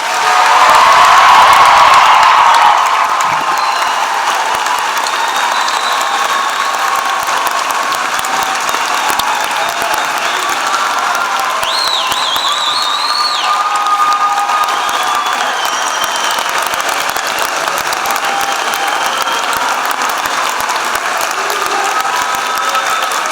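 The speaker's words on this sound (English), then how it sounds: "please join with me as we honor all of these graduates with a well-deserved round of applause." Spring commencement ceremony crowd applauds graduates in a large hall, a loud burst with cheers at first, then a long, steady wash of clapping that continues for over twenty seconds.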